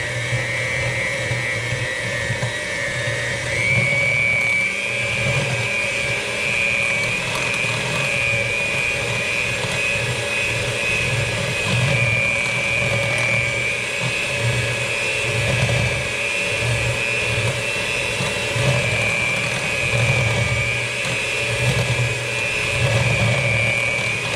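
An electric hand mixer beats cream cheese cookie dough with vanilla extract and granulated sugar, a steady close motor whine holding for the whole stretch with a slight pitch rise early on and faint rumbling from the bowl underneath.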